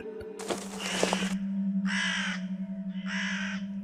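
A large bird perched on a house roof caws three times, harsh and loud, the first call longest, over a steady low hum.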